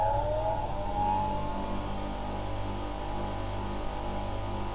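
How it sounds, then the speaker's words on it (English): A bench grinder switched on in a woodturner's workshop, spinning up to speed and settling into a steady, loud motor hum with a rising whine at the start, no talking. "So what I'm going to do is turn the grinder on. I'm going to let it come up to speed now and just stabilise."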